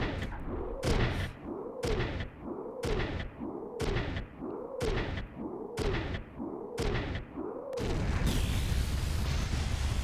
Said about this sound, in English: Accidental explosion on the base.